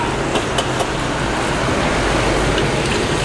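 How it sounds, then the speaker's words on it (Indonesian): Eggs frying on a hot pan at an Indonesian street food stall, giving a dense, steady, loud sizzle that runs unbroken with no talking. "Goreng telur ya."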